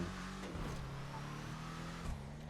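The Greenwood car's engine in GTA 5 Online hums and revs at a moderate level, with small rises in pitch and a brief surge near the end, no talk.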